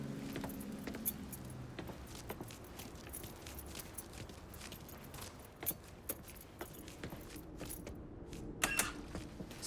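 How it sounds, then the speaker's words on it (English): Keys jangling as they are picked up in the game Mafia III, quiet metallic rattles and clinks scattered among soft footsteps and creaks, with no talking. "Lincoln, pick up the keys."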